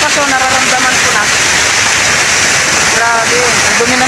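Dirty floodwater rushing loudly and continuously nearby, a dense broadband roar like a waterfall that stays steady throughout, with a voice faintly present beneath it.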